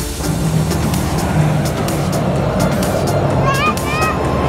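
A neighbor's car drives by on a residential street, a moderately loud engine and tire rumble passing close, with faint high chirps near the end.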